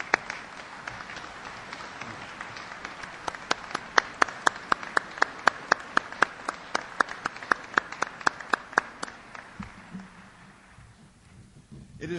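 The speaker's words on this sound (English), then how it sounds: "please join me in recognizing our veterans' national leadership with your applause" An outdoor crowd at a Veterans Day ceremony at Arlington National Cemetery claps in sustained applause for veterans' national leadership, scattered claps standing out clearly before fading away toward the end.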